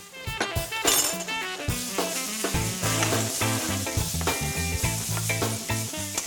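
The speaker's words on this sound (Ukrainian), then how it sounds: "секрет у тому, щоб дати спочатку пасту і обсмажити її" Paste frying quickly in a pan before minced pork goes in for eggplant with pork: a continuous bright sizzle with light stirring, partly under loud rhythmic background music.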